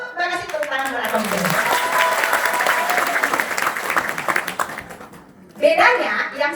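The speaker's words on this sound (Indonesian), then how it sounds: "tepuk tangan buat Atomy" Audience applause at an Atomy Indonesia seminar, a dense burst of clapping that swells and holds for several seconds, then dips as a voice resumes speaking near the end.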